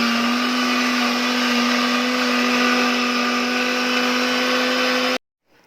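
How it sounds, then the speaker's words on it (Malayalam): A kitchen mixer grinder runs loud and steady, blending hair-care ingredients with a little water, its motor whine holding an even pitch for about five seconds before cutting off abruptly into silence. "അപ്പോൾ നമുക്ക് അടുത്തത് മിക്സിയിലിട്ട് ഇത് നന്നായിട്ടൊന്ന് അടിച്ചെടുക്കുക."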